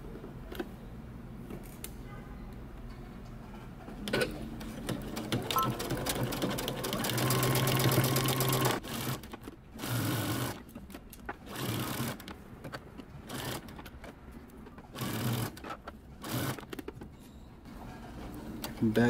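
A sewing machine stitches a men's fitted shirt neckband seam in short bursts with pauses between, including a longer run in the middle. Quiet talk and handling noises fill the gaps between bursts.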